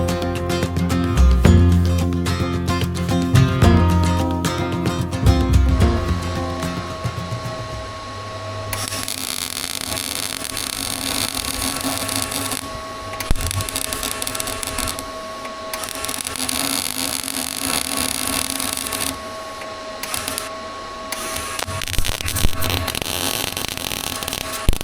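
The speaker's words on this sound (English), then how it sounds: "So the next job is just to sand back the welds" Bus frame welds being ground smooth with a power sander, a harsh broadband whine running steadily in long continuous passes with brief pauses, close and loud, alone without talk.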